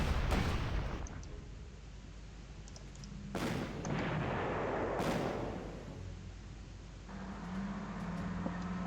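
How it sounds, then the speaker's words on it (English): Artillery fire in a WWII strategy video game set around Berlin 1945, several heavy booming shots and explosions with rumbling decay, spaced a second or two apart over a continuous battlefield din. "Oh man, that was a good artillery hit."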